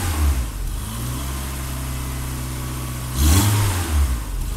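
A BMW E30 engine idles high, around 1,800 RPM, with a steady low hum that briefly rises in a short rev near the end; no one speaks.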